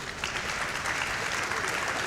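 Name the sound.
audience applause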